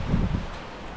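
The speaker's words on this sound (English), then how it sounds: "It's pretty windy." Wind buffets the microphone with a low, steady rumble and gusty roar, no voices present.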